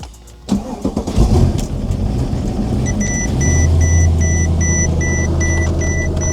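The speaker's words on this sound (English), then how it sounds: "let's just start the car and see if you guys can hear" A Mercedes-Benz S63 AMG W221 engine cranks and catches after a brief struggle, then settles into a steady idle, with a faint repeating electronic chime from an SRS malfunction warning over it.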